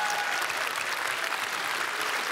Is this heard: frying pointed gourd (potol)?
no